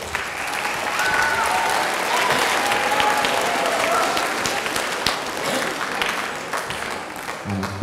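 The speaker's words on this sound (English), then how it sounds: "So applause for you guys." Audience applause at a middle school winter band concert, a steady dense wash of clapping from a large crowd that holds for the whole stretch, with faint voices mixed in.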